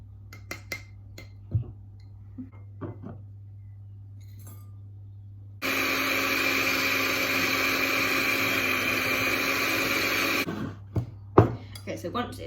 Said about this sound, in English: I'm going to cream the butter and sugar together